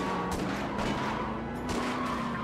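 Gunfire from the PS2 game Starsky & Hutch, a steady dense crackle of shots running through the whole stretch over a constant droning game background, fairly loud and continuous.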